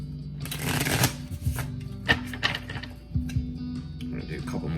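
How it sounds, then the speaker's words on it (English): Tarot cards are shuffled close up in several quick riffling bursts separated by short pauses. "I'm gonna do a couple more shuffles"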